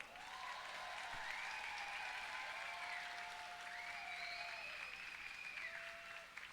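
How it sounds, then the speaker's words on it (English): Roller derby crowd applauding the volunteers, a steady broadband wash of clapping throughout with whistles or squeaky tones drifting over it. "let's do some more applause, this time for all of our volunteers who make all this possible"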